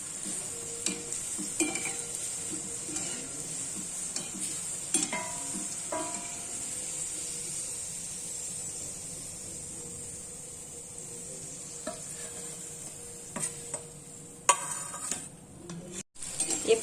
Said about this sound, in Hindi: ये बाकी के बचे हुए मोदक भी हमने तेल में डाल दिए हैं।